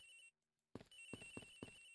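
Phone ringing in the Ace Attorney Investigations video game, a telephone ring coming in after a brief silence as a series of rhythmic pulses over game music, clear and without speech.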